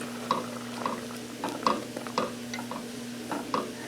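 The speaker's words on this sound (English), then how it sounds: "Give the vegetables a good turn" A spoon repeatedly clinks and scrapes against a pan while vegetables fry for shrimp and grits, several distinct strikes spaced about half a second apart over a low sizzle and steady hum, close and fairly quiet.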